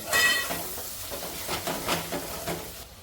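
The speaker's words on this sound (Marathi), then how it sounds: "आणि हा आगरी पद्धतीचा मसाला आहे तो ॲड केला आहे मिक्स करून घेते" Agri-style masala with turmeric frying in a pan as it is stirred for a fish curry, a soft sizzle broken by several short scraping stirs, close and fairly quiet, no talk.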